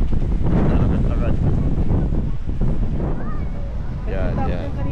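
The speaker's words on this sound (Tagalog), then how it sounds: "Sobrang lakas ng hangin dito." Strong wind gusts at the beach of Lido di Jesolo, Italy, roar and buffet loudly and continuously across the microphone, with faint surf and bits of background noise mixed in.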